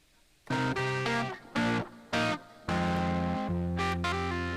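A looped musical phrase run through a distortion effect in Output Arcade, with gritty sustained tones in several bursts separated by short gaps, no voices.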